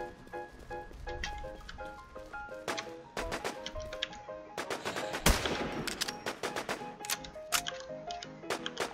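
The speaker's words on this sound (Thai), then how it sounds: "ยิงกันลั่นทุ่งเลย" Rapid machine-gun bursts and scattered single gunshots crackle through a battle in the survival game Infestation The NewZ, sharp and dense over game ambience, with one especially loud shot near the middle.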